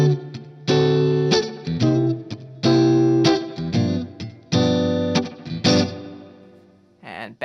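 Electric guitar plays the closing four bars of a 12-bar blues with a stop-time break: loud distorted chord stabs in short bursts separated by gaps, ending on a bent note.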